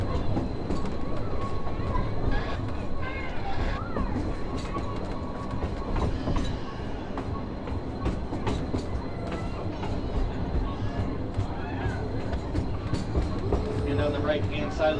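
Halloween-themed ride train clattering steadily along the rails, loud rhythmic clickety-clack with rumbling wheels throughout, with a voice talking over it.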